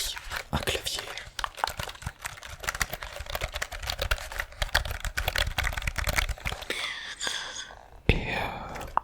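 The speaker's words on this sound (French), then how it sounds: "j'ai juste pris un clavier." Close, soft clicking of fingers typing on a computer keyboard in a steady flurry of keystrokes, with a whispering voice running over it and a crinkly rustle near the end.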